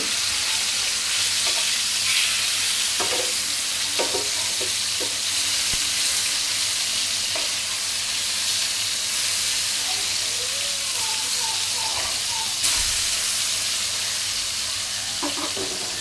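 Tilapia fish pieces fry in oil in a pan with a constant, dense sizzling hiss, close and loud, broken by a few soft clinks and stirring taps, with no voices.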